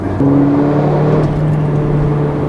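A 2015 Mercedes-Benz GLA 45 AMG with a 2-liter four-cylinder engine gives a short rev, then settles into a steady, moderately loud engine drone heard from inside the car.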